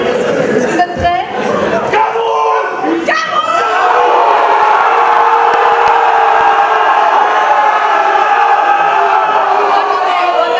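Audience at a talent show crowd cheering and whooping loudly, with shouts rising early then a sustained roar of voices holding steady throughout.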